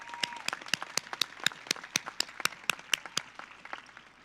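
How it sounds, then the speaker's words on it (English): Sparse audience clapping at a 2021 high school graduation: a handful of sharp, evenly spaced claps, fairly quiet, heard alone with no talk. "Let's give them a very, very big applause if we can."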